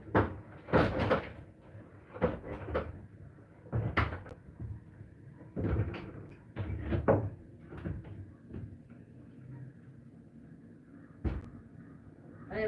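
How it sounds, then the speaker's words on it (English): Doors and hatches on a converted bus are opened, giving a string of separate knocks, clunks and latch clicks at irregular intervals, close by and fairly loud, with quieter rattles between them. "We're gonna open some doors."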